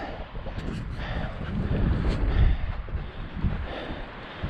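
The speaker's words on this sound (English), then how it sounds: "Pushing on this wind. It's pretty good gusts." Strong wind buffets the microphone in rough, surging gusts, a loud low rumble that swells and eases over a few seconds.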